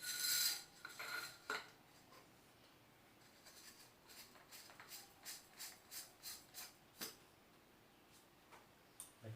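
Small metallic clicks and ticks as a spring is pushed into a shotgun shell follower assembly, faint and close, coming in an uneven run of light taps after a brief rustle.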